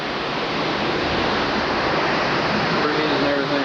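Roaring hurricane wind from Hurricane Fran in 1996 batters a backyard at Wrightsville Beach, North Carolina, a dense, constant rush of storm noise with no break.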